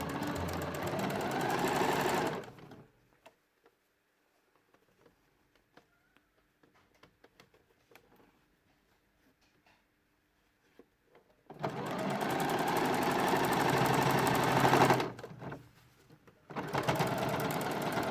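A sewing machine joins a stuffed bunny's hood to its body in two loud, steady runs of close stitching, separated by a long near-silent pause with small handling clicks, then a short final burst.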